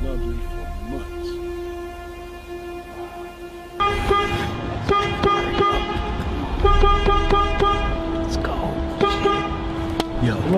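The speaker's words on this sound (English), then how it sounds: "Why the fuck you gotta honk the horn like you crazy?" A loud car horn honks repeatedly in bursts over steady traffic noise and background voices, starting a few seconds in.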